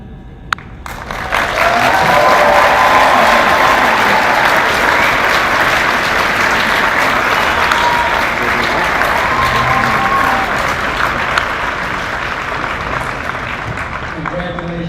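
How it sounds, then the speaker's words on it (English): A graduation ceremony audience at the University of Arkansas breaks into sustained applause that swells quickly and holds steady for over ten seconds, a large, dense, loud crowd with faint cheering mixed in before it slowly eases. "Let's give them another round of applause."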